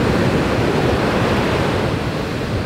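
Ocean waves breaking at Pipeline, a powerful surf break, sound like a steady, loud, close roar of surf and rushing water with wind buffeting the microphone, continuous for the whole stretch with no voices.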